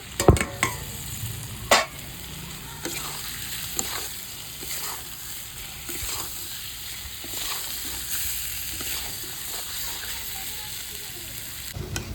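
Masala for egg khichuri fries in a pan with Kashmiri chili added, a steady crackling sizzle broken by sharp scraping clicks of a spoon stirring, strongest in the opening seconds.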